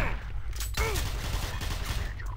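Automatic weapon fire in the Doom 3 video game, a loud dense burst of rapid shots with booming low-end impacts continuing for a couple of seconds.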